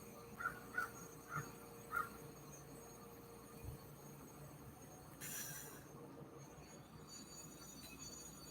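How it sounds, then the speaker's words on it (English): Crows caw four times in quick succession, fairly close, over a steady outdoor rumble that sounds like passing rail traffic, followed by quieter ambient noise. "I love the crows. I love them."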